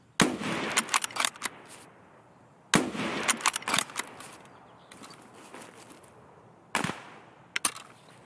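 Sharp gunshots from a scav-sniping match in the video game Escape from Tarkov ring out in short bursts of two or three, separated by quiet gaps, with a few fainter single shots and light footsteps between.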